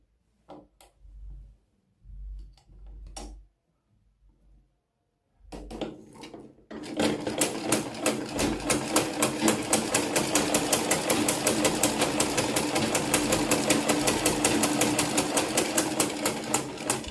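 A Butterfly sewing machine begins stitching after a few soft handling clicks, then settles into a fast, steady mechanical chatter that runs loud and continuous for over ten seconds.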